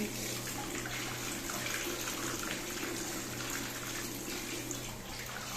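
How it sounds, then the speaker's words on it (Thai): Tap water runs steadily into a bowl at a basin, a continuous close, moderately loud rush and splash with no talking over it. "เดี๋ยวเปิดน้ำให้ดูน้ำ"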